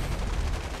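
ShKAS machine guns on an SU-2 attacker aircraft in War Thunder, firing a dense, continuous rattling burst for about a second with heavy low-end rumble and no pauses.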